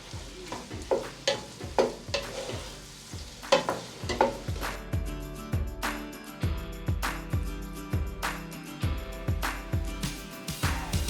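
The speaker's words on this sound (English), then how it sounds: "I wanted the meat to cook for a while together with the garlic. Then I'll now add my tomatoes." Meat, garlic and tomatoes frying in a pan, stirred repeatedly with a utensil: a steady sizzle under a regular run of scraping strokes and clinks, close and moderately loud, with no one talking.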